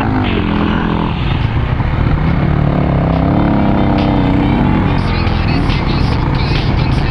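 A motorcycle engine that feels weak on power and is near the end of its life drones steadily and loudly on a ride along Pearl Road, a continuous rumble with shifting pitch, with someone talking over it.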